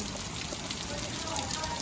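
Steady rain falling outdoors at the Baba Budha Sahib shrine, a dense continuous patter and hiss that stays even throughout with no clear breaks.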